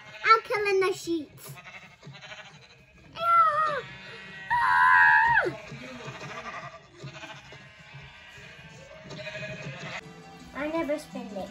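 Repeated wavering sheep bleats in a video game, some shrill and drawn out, come in bursts among excited voices talking and shouting over a quiet electronic background.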